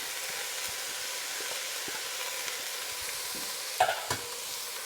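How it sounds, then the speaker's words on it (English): Chopped celery and carrots fry in a pan for a Bolognese sauce, giving a steady soft sizzle with brief clatters of stirring near the end. "frying all that stuff through intensifies the flavor"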